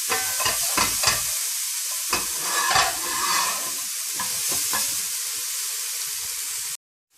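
Onions sautéing in a pan with salt, a steady loud sizzle and hiss throughout with spoon stirring scrapes and clatters over it, cutting off abruptly near the end, with no talk.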